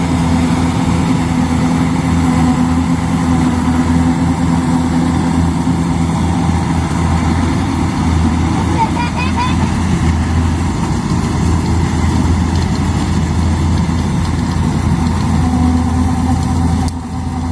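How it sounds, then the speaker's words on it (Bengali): A rice harvester cutting paddy in a field, its engine droning loud and steady close by for the whole stretch, with faint mechanical rattling layered on top. "আর এই মেশিনের মধ্যে ধানগুলো কেটে জড়ো করা হচ্ছে"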